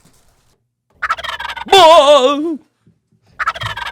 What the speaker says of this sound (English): Oh, I got to get a turkey noise.